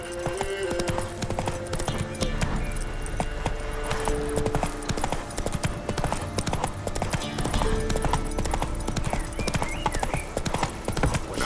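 Roach the horse gallops steadily in The Witcher 3, a continuous close run of hoofbeats with an occasional whinny, layered over game music and ambience.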